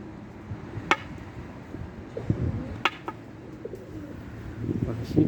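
Pigeons coo softly in a crowded coop, low repeated calls close by with a few sharp taps and rustles, and a voice occasionally heard in the background.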